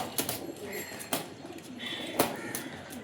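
A frightened pigeon giving low coos close by, broken by several sharp bursts of wing flapping and fluttering, with no talk over it.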